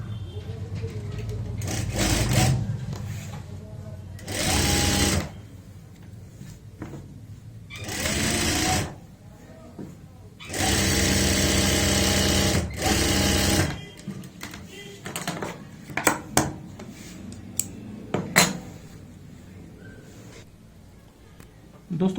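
Sewing machine stitching the back seam of a palazzo pant in several loud bursts of fast whirring, separated by pauses filled with quieter handling of the fabric.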